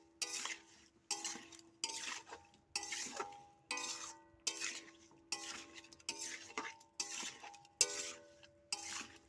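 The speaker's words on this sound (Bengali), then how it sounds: "আমি খুন্তি দিয়ে নেড়ে নিচ্ছি সুন্দর করে" A metal spatula scrapes through cut potatoes and pointed gourd in a pan in about ten even, rhythmic strokes, each ending in a faint metallic ring, quiet and close.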